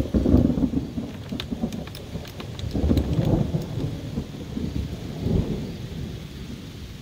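Nighttime thunderstorm with steady heavy rain and low rolling thunder peaking around the middle, close and loud, with no voices.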